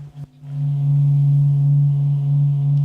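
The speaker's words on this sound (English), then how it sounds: "And that's the noise of the sun," A low, steady electronic hum with faint overtones drones on, swelling in after a brief sputter at the start and holding evenly throughout.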